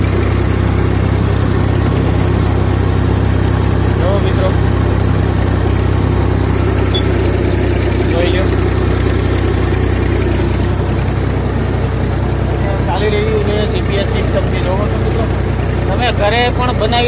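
A homemade GPS-controlled tractor's engine drones steadily at close range throughout, a low continuous rumble, with faint voices briefly audible near the end.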